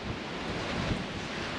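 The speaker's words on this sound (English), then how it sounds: "You can see it's windy." Wind blowing by the Missouri River on a hot day, heard as a steady broadband rush with gusty buffeting, close and fairly loud, with no speech.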